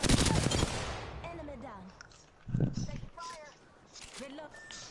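Bursts of gunfire in a shooter video game: a loud rapid volley at the start, then scattered shots and effects under people talking.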